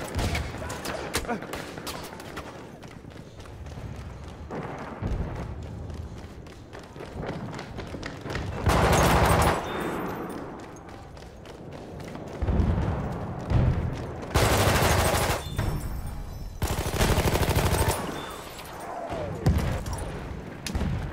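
Gunfire from a hated weapon in Battlefield 1, with bursts of rapid fire and loud explosive blasts over continuous battlefield noise, including several heavy volleys in the second half.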